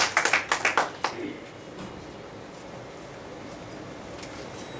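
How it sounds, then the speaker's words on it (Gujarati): An audience applauds at a literary evening, a burst of loud close clapping for about a second that fades into quiet room ambience, with another brief clap at the end. "એટલે સૌ એમને તાળીઓથી વધારી."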